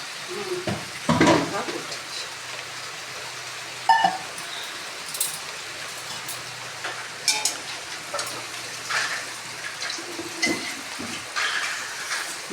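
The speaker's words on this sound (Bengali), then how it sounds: "ভাজতে ভীষণ দেরি হয়, আস্তে আস্তে তো ভাজবে না।" Split pea pakoras frying in hot oil, giving a steady close sizzle throughout, with periodic stirring scrapes and clinks of a utensil against the pan.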